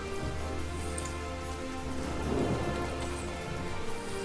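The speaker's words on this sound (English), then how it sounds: "Making it rain indoors." Rain pours indoors in the fantasy video game Divinity: Original Sin, a steady dense patter of drops filling the space with a brief swell partway through, with no talk over it.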